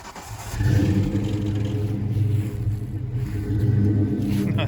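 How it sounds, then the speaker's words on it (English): A Ford 302 V8 with a Flowmaster Super 44 muffler, fitted in a lifted manual-transmission Ford Explorer, fires up and revs into a deep, rumbling burble that holds steady and loud for several seconds, with some faint voices nearby. "You're seeing that nice V8 in there, nice sweet 302. What does it sound like?"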